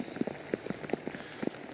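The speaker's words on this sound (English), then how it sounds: "it has started raining" Rain starts falling on the RACV Cape Schanck golf course during a professional tournament round, with faint, scattered drops pattering on a surface in an irregular rhythm and no voices over it.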